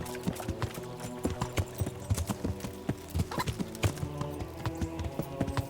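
Horse hooves clip-clop in the medieval video game Kingdom Come: Deliverance, a rhythmic, close, uneven stream of hoof strikes over a low sustained tonal game score, with no talking.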